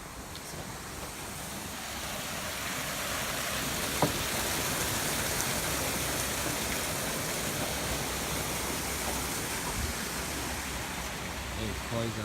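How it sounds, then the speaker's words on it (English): Continuous rushing of natural spring water flowing into a stream, a steady even wash of sound with no breaks. "It looks like to me it's a natural spring, and it flows into it and goes down in a river."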